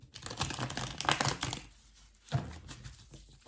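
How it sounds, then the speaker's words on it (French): A deck of tarot cards is shuffled by hand in short, crisp riffling bursts, two quick rounds of papery flicking with a pause between, close and quiet. "Je vais mélanger une fois"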